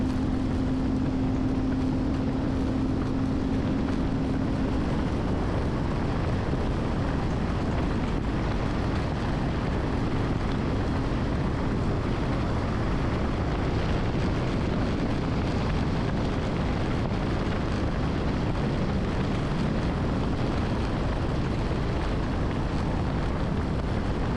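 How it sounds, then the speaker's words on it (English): Ranger Tug motorboat cruising on plane on the Great Lakes, a loud, unbroken roar of engine and rushing water with heavy wind buffeting throughout, no pauses. "it seemed like a safe time to get back up on plane for a while"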